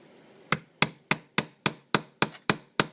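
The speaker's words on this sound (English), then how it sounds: "Tap and pull back, and the rivet will come right out." A hammer taps a tool against a plug rivet on a Carter walk-behind mower, nine sharp evenly spaced metallic knocks, close and clear with quiet between strikes.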